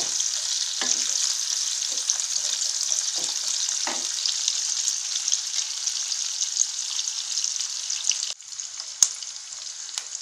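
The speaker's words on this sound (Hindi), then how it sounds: "प्याज को हम मीडियम फ्लेम पे ही फ्राई कर रहे हैं।" Onions frying in a pan on a medium flame, a bright steady hiss with occasional soft stirring knocks, dropping quieter near the end after a sharp click, no talking.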